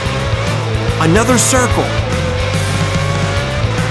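Cartoon race car tires squeal sharply as the car speeds around a track, with engine noise throughout and a voice speaking over it.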